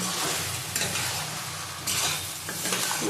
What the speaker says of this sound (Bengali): আলুর সাথে একটু কষিয়ে নেবো কষিয়ে জল দিয়ে দেবো